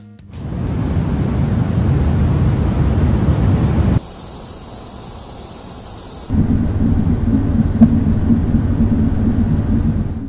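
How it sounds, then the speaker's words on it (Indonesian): A steady white-noise recording for soothing a fussy baby plays alone, a loud rushing hiss that shifts to a thinner, brighter tone partway through, then returns to the fuller roar. "itu bisa dapatkan contoh suara white noise yang banyak sekali"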